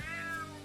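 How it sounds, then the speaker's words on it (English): A cat in a video game trailer gives one short, clear, tonal meow, close and alone with no talk over it. "Damn cat."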